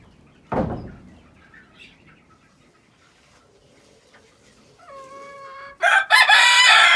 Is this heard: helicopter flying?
no